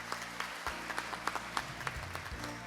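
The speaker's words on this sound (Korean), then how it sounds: "네, 여러분 큰 박수 부탁드리겠습니다." Audience applause at a global health leadership event as a lawmaker arrives on stage, a dense, steady clapping crowd with a low hum of background music underneath.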